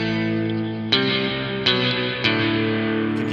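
An electric guitar rings through a Source Audio Artifact uVerb pedal with overdrive applied to the reverb, three strummed chords each sustaining into a gritty, saturated wash, loud and close with no talk.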